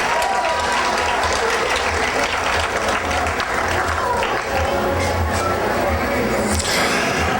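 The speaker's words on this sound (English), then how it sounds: "So let's give a big round of applause for John Kirkpatrick." At the Miss Amador pageant, an audience gives John Kirkpatrick loud, sustained applause, dense and close from start to finish, with no spoken words over the clapping.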